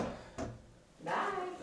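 A pocket door with a soft-close mechanism slides along its track in a house addition, giving a short quiet rolling swish and a soft thump, then a second longer slide, close and indoors.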